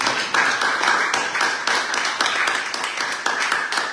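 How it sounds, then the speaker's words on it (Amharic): Congregation applause for departing guests at a church service, steady dense clapping from many hands filling the room at an even level with no gaps. "አጨብጭቡላቸው"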